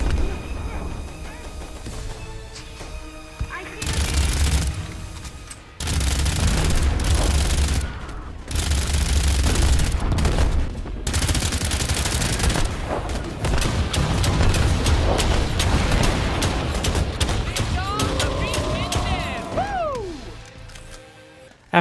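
Barrels blowing up amid sustained gunfire in the Earthfall video game, with loud bursts of rapid shots and crashing blasts that carry on for about twenty seconds before easing off, with chaotic effects close and dense throughout.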